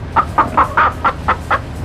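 A chicken clucks in a quick, regular series of about seven loud, close clucks with no talking.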